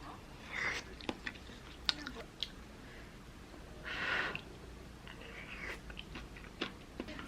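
Close, faint chewing and biting of octopus kimbap (rice rolls filled with octopus), with soft irregular mouth noises, light breathing and a few small bites scattered over several seconds, no talking.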